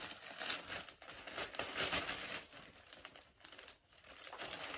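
Plastic crinkles and rustles up close in irregular bursts of crackling, handled continuously with brief pauses.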